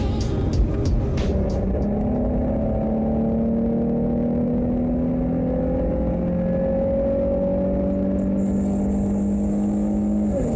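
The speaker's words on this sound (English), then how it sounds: "we'll get some little on-ramp pull here with the stock exhaust and everything" A 20-year-old Nissan 350Z with stock exhaust pulls steadily through a long on-ramp acceleration, its tone rising up close with a smooth, moderately loud exhaust note.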